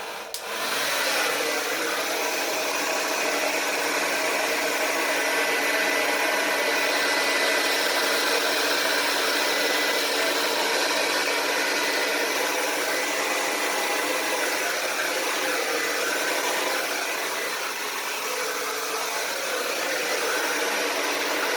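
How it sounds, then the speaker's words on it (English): A blow dryer aimed at wet acrylic fluid paint, a loud, constant, close whooshing roar that starts abruptly and runs steadily, with a slight dip in level late on. "I'm going to use the blow dryer again."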